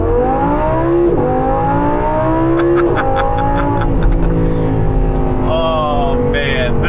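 A Corvette C8 Z06 accelerates hard through a full-throttle pull, heard from inside as a loud engine wail rising in pitch through successive gear changes, with brief shifts breaking the climbing howl.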